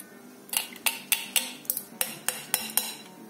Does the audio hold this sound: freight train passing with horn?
no